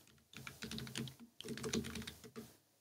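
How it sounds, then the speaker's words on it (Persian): Keys clatter on a computer keyboard in quick, uneven bursts with a short pause in the middle, fairly quiet and close, with no voices. "خودم تایپ میکنم اینا رو"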